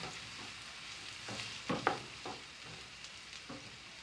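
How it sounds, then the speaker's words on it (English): Chopped onions sautéing in a pan, a soft, steady frying sizzle with a few louder stirring scrapes near the middle, quiet and close with no talking. "now saute these onions until they turn into light brown in color."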